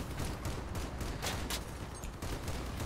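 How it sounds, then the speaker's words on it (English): Vehicle-mounted guns firing in the combat game Crossout, a dense, continuous fusillade of rapid shots rattling together for the whole stretch, fairly loud and unbroken. "Going to get some shots on them."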